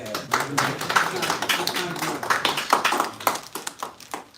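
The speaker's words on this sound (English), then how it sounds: "let's applaud that, Phil." A small gathering at a political meeting claps after a 50-50 raffle winner is announced, uneven close individual hand claps in a loose rhythm, mixed with voices talking.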